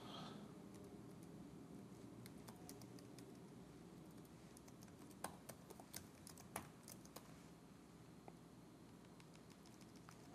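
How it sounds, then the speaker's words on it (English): Someone types an address on a computer keyboard: quiet, irregular key clicks over a faint steady hum, scattered at first, then bunching into brisk bursts of taps. "And as I type in the address in this particular case"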